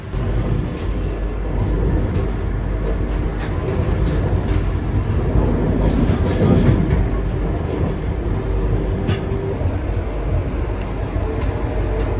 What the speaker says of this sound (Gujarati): આ રૂટ પર સૌથી વધુ ફાસ્ટ ચાલતી ટ્રેન છે આ